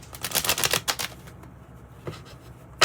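A deck of tarot cards is cut during a reading, giving a quick cluster of crisp papery riffles and slaps up close. A couple of single card snaps follow after a pause, all fairly quiet.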